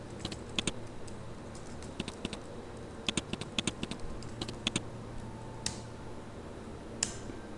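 Keys clack on a computer keyboard as a company mailing address is typed into accounting software, with irregular bursts of quick, crisp taps close by and short pauses between words.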